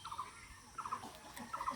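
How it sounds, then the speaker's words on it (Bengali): A pigeon chick calls for food, a faint series of short, thin squeaky cries repeating every half second or so against a quiet background. "তোর বাচ্চা ওই যে ডাকাডাকি করতেছে"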